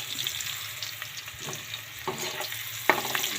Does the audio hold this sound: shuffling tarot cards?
no